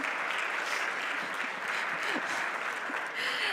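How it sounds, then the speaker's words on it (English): Steady audience applause fills a hall at a battery storage product launch event, an even, moderately loud wash of clapping with no pauses. "So a big applause for being so spontaneous for Miranda."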